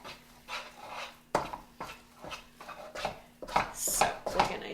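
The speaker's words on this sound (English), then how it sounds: "So I'm going to keep stirring, and eventually it will start clumping." Homemade playdough mixture being stirred in a hot pan, with repeated scraping and knocking of the utensil against the pan in an irregular rhythm, moderately close and fairly quiet.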